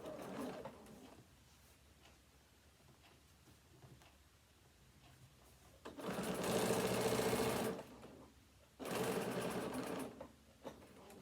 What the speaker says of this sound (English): we're going to carry on stitching along that fold there